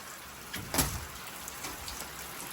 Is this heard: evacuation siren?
no